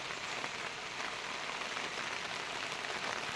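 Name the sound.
rain falling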